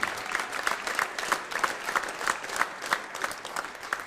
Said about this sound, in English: you should give them a round of applause for helping us out too